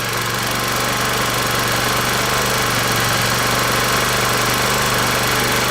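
A scooter engine held at steady mid revs of about 2,500 RPM, a continuous loud droning hum with a buzzing vibration, no speech.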